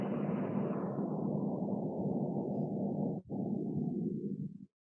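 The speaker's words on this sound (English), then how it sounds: "exhale and let go" A long, slow breath exhaled during an Iyengar yoga pose, a soft airy rush that tapers gradually, briefly catches, then fades out near the end, quiet and close with no talking.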